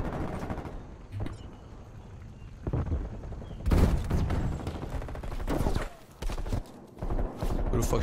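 Gunfire from a Krig 6 rifle in Call of Duty, heard as dense, rapid bursts of shots mixed with loud game noise and a talking voice over it.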